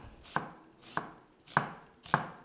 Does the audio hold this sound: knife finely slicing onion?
yes